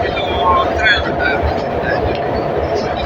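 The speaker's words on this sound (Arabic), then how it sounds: "المهم هذا سميتو ترين." Metro train carriage interior with a steady loud rumbling roar of the car in motion, faint squeals and rattles on top, and people talking in the background throughout.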